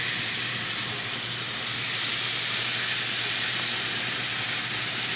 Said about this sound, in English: I'm going to go ahead and lay it on the grill